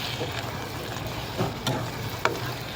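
Chilli powder is stirred into prawn masala frying in oil: a steady, close sizzle with a few soft scrapes and clicks from the spoon.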